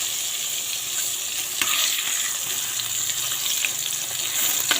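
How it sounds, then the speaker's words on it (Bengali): Eggplant slices fry in a generous amount of oil, a loud, steady sizzle and crackle that continues throughout with no voices. "বেগুনগুলো দুইবার ভেজে নেব।"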